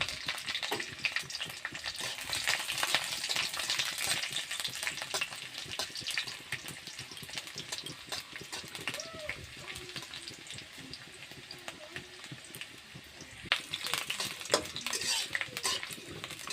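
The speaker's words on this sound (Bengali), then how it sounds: "তেলটা গরম হয়ে গেছে, এখন আমি রসুনগুলো দিয়ে দিচ্ছি।" Garlic and dried chillies fry in hot oil in a pan, a steady crackling sizzle with scattered clinks of a utensil stirring against the pot, loud and continuous throughout with a brief lull before it picks up again.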